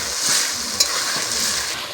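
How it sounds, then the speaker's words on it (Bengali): A spice paste of ground ginger, cumin and coriander frying with tomato in oil for a pangas fish curry, a loud, steady sizzle with soft stirring scrapes and one sharp click, no voices. "ভালো করে মশলাটাকে ভেজে নেব।"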